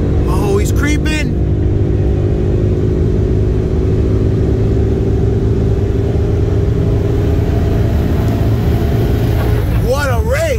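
A 2020 BMW M5 Competition with downpipes racing a 2013 Cadillac CTS-V with cam on E85, loud continuous engine roar heard from inside a car, with excited voices at the start and end.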